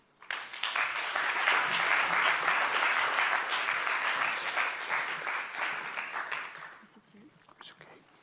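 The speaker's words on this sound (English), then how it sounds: "may I ask a warm applause for the three poets" A room full of people at a poetry reading gives the three poets a warm round of applause: dense, steady clapping that swells quickly, holds for several seconds, then thins out to a few scattered claps.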